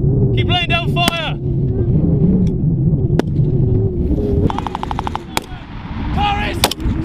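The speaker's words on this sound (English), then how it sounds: "Rapid fire! Rapid fire! Keep laying down fire!" Scattered gunfire during a British Army officer cadet simulated assault at Grafenwoehr: a few sharp single cracks and a short rapid burst over a rumbling engine, with shouted commands throughout.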